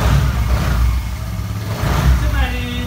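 A Piaggio Medley 125 scooter engine, a 2020 model, running close by with a low steady rumble and rising throttle blips, while someone talks over it throughout.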